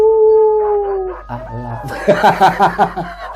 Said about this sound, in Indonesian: Dia bukan gonggong lagi tapi melolong.